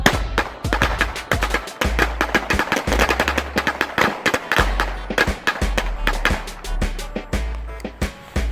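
Firecrackers burst in a rapid, loud, close string of sharp cracks and pops, going off continuously like machine-gun fire for several seconds.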